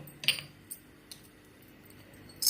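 Fenugreek seeds dropped into a heated kadhai give a few brief, light metallic clinks and rattles, spaced out over a quiet background, with one final louder burst at the end.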